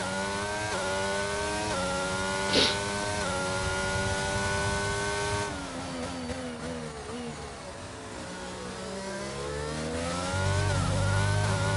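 Onboard a racing car on the hard tyre during a premier-tier round in Belgium: a loud, close engine note climbs and drops through gear changes, easing off mid-lap before building again.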